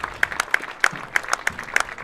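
A crowd at a Richland Center vs. Westby high school game claps for an injured player, a thin, steady patter of hands with sharper claps standing out throughout.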